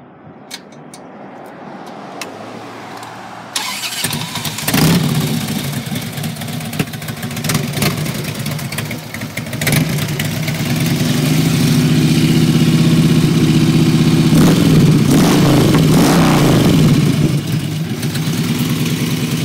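A 2001 Harley Davidson Road King FLHRI motorcycle with 49,131 miles starts quietly, then its engine rumbles loudly and rises as it rides through the gears, the roar growing fuller and sustained.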